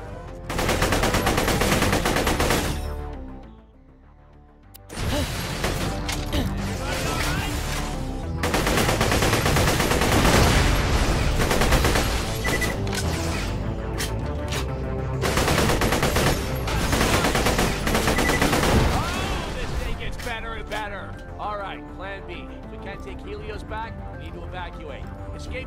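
Rapid automatic gunfire from turrets in the video game Borderlands: The Pre-Sequel, loud and sustained in dense bursts with a brief lull, mixed with game music and effects while voices talk over the action.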